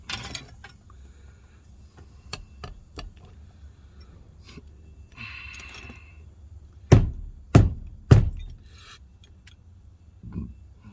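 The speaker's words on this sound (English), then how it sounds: "I'll kind of flatten this washer out a little bit" Hammer striking a washer on a GM door hinge pin to flatten it, 1996–1999 vehicle door: three sharp metallic blows in quick succession after faint scraping and handling sounds, plus a later lighter tap.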